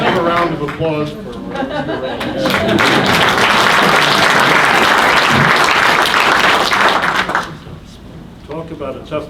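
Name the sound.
audience applause at a Hall of Fame ceremony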